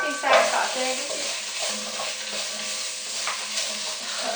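Carrot sautéing with garlic and ginger in a pan for a Vietnamese shrimp and tofu curry, a close sizzle broken by scraping stirs and a brief clatter of utensil against pan near the start.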